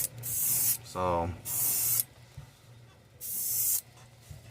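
Airbrush spraying green paint onto a handmade fishing bait, three separate hissing bursts of about half a second each, close and fairly soft, with a short spoken word between them.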